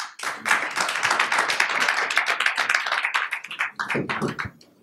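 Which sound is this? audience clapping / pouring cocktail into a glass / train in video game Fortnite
audience clapping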